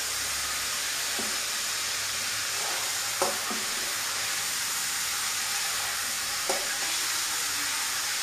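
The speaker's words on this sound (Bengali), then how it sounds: "তো তার জন্য আমি এগুলোকে এখন হালকা হালকা ভেজেই তুলে নিচ্ছি।" Snake gourd pieces fry lightly in hot oil in a Bengali-style home kitchen, a steady broadband sizzle with a few sharp spatula scrapes against the pan, no voices.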